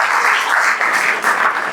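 Audience at a one-man comedy show clapping steadily and loudly, a dense continuous wash of applause with no voices over it.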